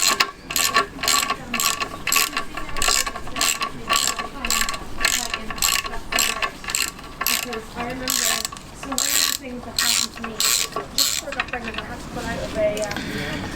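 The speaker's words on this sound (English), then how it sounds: "I'll ratchet it back on." Rapid repeated clicking of a ratchet wrench tightening bolts during a clutch replacement on a classic Fiat 500, steady bursts of sharp metallic ticks close by, with short pauses between runs.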